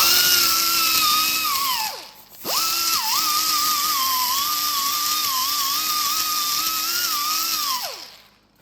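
A power drill spinning an abrasive cookie disc against a Spec Miata MX5 radiator housing gives a loud, steady high whine with wavering pitch, cut off once briefly near the middle, then running on before spinning down.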